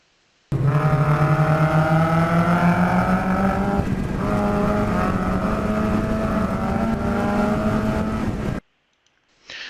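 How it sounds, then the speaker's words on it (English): A race car engine drones loudly and close for about eight seconds, its pitch wavering up and down as the throttle is eased and reapplied, then cuts off abruptly. "you can hear me playing with the throttle a little bit on my first run"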